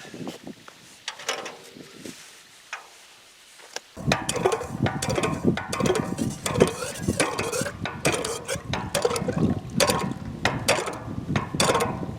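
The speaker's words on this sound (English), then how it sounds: "I count how many pumps it takes to fill up a 5-gallon bucket" A hand pump on a well being worked to fill a 5-gallon bucket, a steady run of loud, rhythmic mechanical clanks and squeaks with water splashing, starting after a quieter opening.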